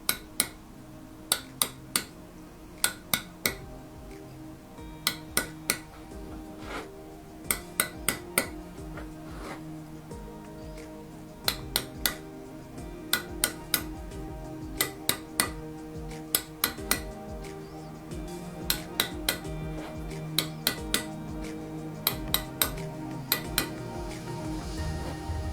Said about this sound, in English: Using the flat chisel, score away from the line, using a few sharp taps